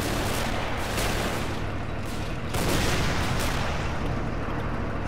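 Dense, continuous battlefield gunfire from the strategy game Men of War Assault Squad 2, a steady wash of overlapping shots and booms with no clear gaps, loud throughout.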